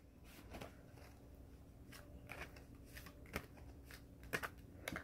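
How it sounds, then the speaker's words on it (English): Tarot cards are shuffled quietly in short riffling bursts, a series of soft papery flutters and taps spaced irregularly. "I am shuffling 9 times."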